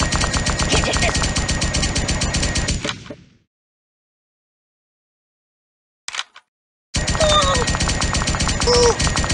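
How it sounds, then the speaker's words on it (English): Rapid automatic gunfire from firearms in the Kick The Buddy game, dense bursts for about three seconds, a sudden silence broken by a brief shot, then another sustained volley, loud and close. "Who's shooting me?"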